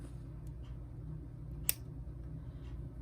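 Cutters snipping off beading wire after crimping a crimp tube on a necklace, a single sharp, close snip over a quiet low background hum.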